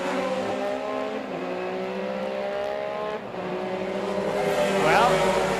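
A BMW M3 GTR race car at the 2001 ELMS Donington Park race accelerates out of a hairpin, its engine note climbing steadily and loudly while a commentator talks over it.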